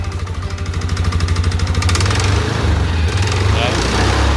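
Engine of a Buffalo 4-series farm transporter with CVT drive, being checked for an abnormal noise, revs up under a brief throttle blip, a loud, steady low drone that rises and holds close by.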